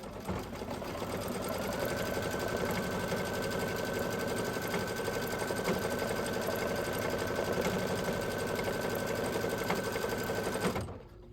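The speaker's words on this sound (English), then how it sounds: "And this time it is just going to stitch" A sewing machine stitches a heart design in one continuous, steady motorised whirr with a fine rapid needle rhythm, running close and uninterrupted for about ten seconds before stopping abruptly.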